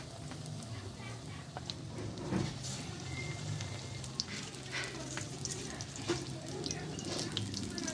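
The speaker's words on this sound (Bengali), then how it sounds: "দেখো আবারও আমি এভাবে ভেজে নেবো চপগুলো" Potato chops coated in a vegetarian batter deep-fry in hot oil, a continuous bubbling crackle with scattered sharper pops, while a voice speaks faintly in the background.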